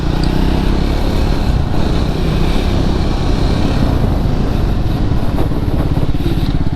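Triumph Scrambler 400 X motorcycle engine roars loud and close throughout a trail ride, a constant rough rumble with wind noise, no speech.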